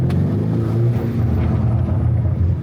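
Roar of a Lamborghini engine on its first drive, a loud continuous low-pitched rumble heard from inside the car, steady throughout with wind buffeting.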